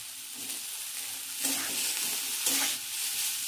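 Brinjal pieces sautéing in a pan give a constant sizzle, broken by two louder hissing bursts as the pieces are stirred and turned, with no one speaking.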